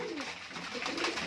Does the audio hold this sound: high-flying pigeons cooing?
yes